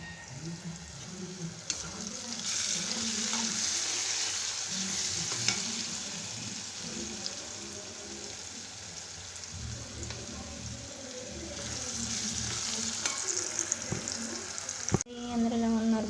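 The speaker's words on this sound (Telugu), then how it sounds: "అందులో ఉల్లిపాయలు వేసుకొని కొంచెం సాల్ట్ వేసుకొని మగ్గించాను." Onions with a little salt softening in hot oil in a pan for a tamarind leaf curry, a soft continuous sizzle with occasional stirring scrapes and taps, fairly quiet throughout.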